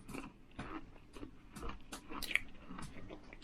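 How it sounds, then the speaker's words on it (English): Close, crunchy chewing of keto cereal mixed with blueberries and pecan-like nuts, with repeated bites and moist mastication sounds in an irregular rhythm, no talking over it. "I'm having my keto cereal for lunch, so it's good for me."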